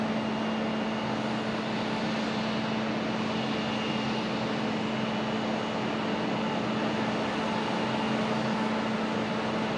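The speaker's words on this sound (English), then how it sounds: "FedEx 767 up next. Finally making their way out onto the runway." A FedEx Boeing 767 taxis out toward the runway at Raleigh-Durham International, its engines holding a steady loud whine and broadband roar with a constant low hum, unbroken and without talk.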